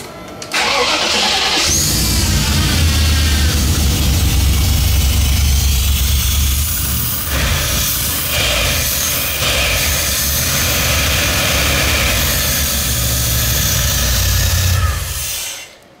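A Range Rover P38 V8 with twin turbos cranks and fires up, then idles roughly and unevenly, loud and close with a constant deep rumble before cutting off at the end.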